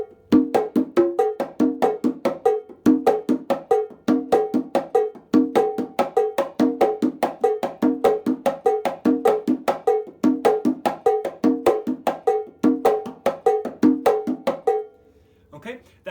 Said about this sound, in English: pattern slightly by adding an additional slap in the left hand